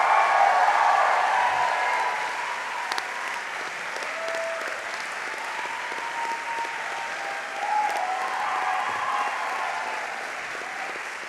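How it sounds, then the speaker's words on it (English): A large commencement audience applauds faculty and staff at a university graduation ceremony, a dense sustained wash of clapping that swells at first, then settles and slowly tapers. "turn towards the stage and applaud the faculty and staff who guided you through SFS"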